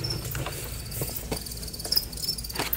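Crickets chirp in a steady high-pitched trill, with faint rustling and scattered light taps beneath, close and fairly quiet.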